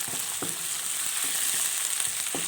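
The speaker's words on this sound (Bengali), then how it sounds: "এগুলা ভালো করে নেড়ে ছেড়ে তারপরে একটু হয়ে আসলে অন্য মশলাগুলো দেবো" Onion, garlic and spices frying in a pan for a beef tripe curry, with a steady bright sizzle and a few soft scrapes as the mixture is stirred, no voices.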